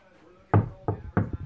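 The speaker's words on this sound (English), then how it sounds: "Stop knocking, I'll be there soon." Three sharp knocks on a door land in an uneven rhythm, close and loud, followed by a few softer taps, with no talking over them.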